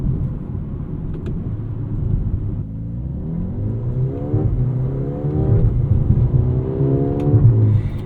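A 2024 Mercedes GLA 35 AMG accelerating at half throttle up to about 40 mph with manual gear changes, the engine note climbing in rising sweeps broken by shift pauses, a close, rumbling interior drone.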